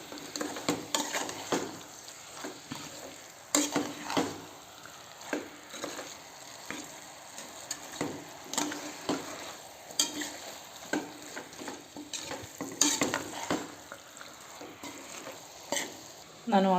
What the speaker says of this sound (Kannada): ಸ್ವಲ್ಪ ಮೀಡಿಯಮ್ ಫ್ಲೇಮ್ನಲ್ಲಿ ಇದನ್ನು ಹುರ್ಕೊಳ್ಳಿ.